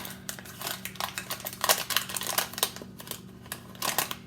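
A muffin mix package is torn open for blueberry muffins: irregular crinkling and snapping of the wrapper, with close, sharp rustles spread across a few seconds over a faint background hum.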